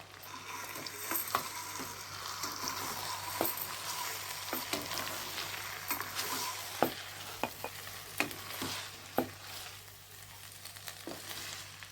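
Noodles and mixed vegetables stir-fried in a pan, a steady close sizzle with scraping clicks and taps of the spatula recurring throughout, no voices.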